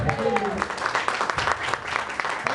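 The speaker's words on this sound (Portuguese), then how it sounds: "Quantos podem aplaudir ao Senhor Jesus?" Congregation applauding during a church service, a continuous patter of many hands clapping mixed with voices and cheering throughout.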